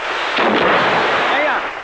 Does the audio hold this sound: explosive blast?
yes